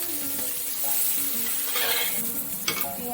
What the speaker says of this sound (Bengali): বাটারটা গলে আসলে এর মধ্যে আমি কেটে রাখা কুচো করে পেঁয়াজ, কাঁচা লঙ্কা আর ক্যাপসিকামটা দিয়ে দেবো।